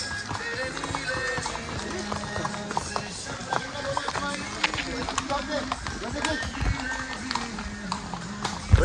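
Horse hooves clip-clop on hard ground amid a busy outdoor crowd at a hill station viewpoint in Matheran, with several people chatting over the steady tapping.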